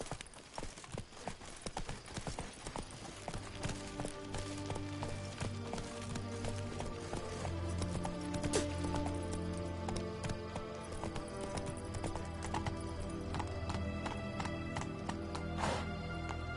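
Roach the horse galloping in The Witcher 3, with rapid rhythmic hoofbeats, occasional whinnies and a game music score layered underneath. The hooves sound close and strong, with no talking.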